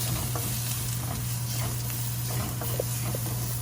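Ridge gourd curry sizzles steadily in a pan on the stove, with soft scraping stirs now and then over the continuous frying hiss.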